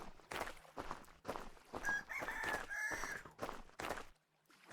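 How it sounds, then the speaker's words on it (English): Clucks and fowl calls from a chicken in the survival video game Vintage Story, several short rhythmic bursts close by, with a brief rising squawk in the middle. "That chicken."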